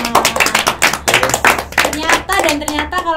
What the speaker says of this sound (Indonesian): Tepuk tangan dulu lah buat kita semua.